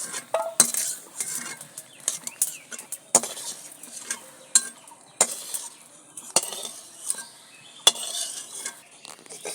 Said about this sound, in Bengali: আলু সিদ্ধ হয়ে গেছে নামিয়ে নিচ্ছি আমার